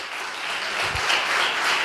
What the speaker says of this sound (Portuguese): Aplauda mais forte, se é para Jesus.